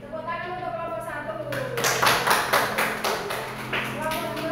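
Rhythmic clapping from a classroom group at an Islamic studies teacher-training session, cheering the first group's poster presentation on the Hajj. The claps come in bursts through the middle, mixed with talking voices.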